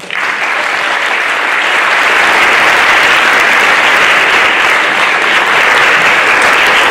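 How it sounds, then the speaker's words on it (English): A school band concert audience gives loud, sustained applause for the school administration, dense clapping that swells in the first second and holds steady for several seconds. "please give them a round of applause."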